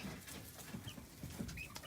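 Young Buff Orpington cross chickens with a bit of Australorp clucking in a coop, soft low clucks repeating every half second or so, faint and close over a steady background rustle.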